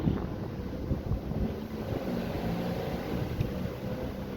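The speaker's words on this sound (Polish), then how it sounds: "Mocno dzisiaj wieje." Strong wind gusts past a beehive in an apiary, buffeting the microphone with a loud, steady, blustery rumble and no talking.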